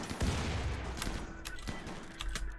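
Mechanoids firing on turrets in RimWorld, on an ice sheet map: a quick cluster of sharp shots and impacts, several distinct bangs over a couple of seconds at moderate loudness.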